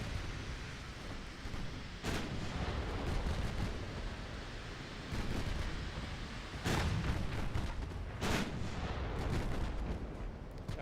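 Warship main guns firing high-explosive shells in the naval video game Ultimate Admiral: Dreadnoughts, heavy booming salvos recurring every couple of seconds over a constant roaring battle din.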